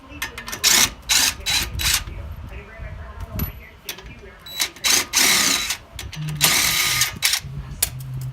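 Bolts and nuts come off the suspension of a Corolla XRS with a string of sharp metallic ratchet clicks and tool clatter, close up, in bursts with short pauses between.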